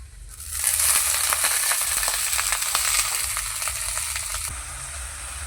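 Dhenki greens (fiddlehead fern) hitting hot oil with fried onion, green chilli and garlic, a steady bright sizzle with scattered crackles and pops throughout, close and continuous, no voices.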